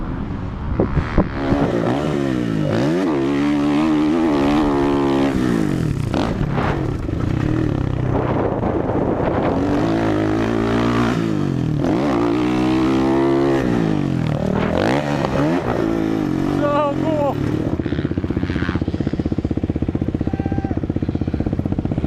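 A dirt bike climbing an uphill section of the Thunder Valley motocross track, its engine revving hard and rising and falling in pitch over and over, loud and close throughout.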